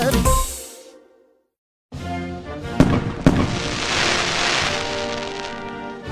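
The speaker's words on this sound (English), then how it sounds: "Summers just wouldn't be the same without the snap, crackle, pop of fireworks" Fireworks bursting on a summer Fourth of July night: a first crackling burst fades out, then after a short silence a dense run of loud booms and sharp cracks rises into continuous crackling.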